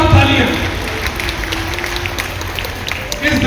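A temple audience at a Jain ceremony for Bhagwan Adinath in Agra gives loud, continuous applause, a dense wash of clapping with voices faintly underneath.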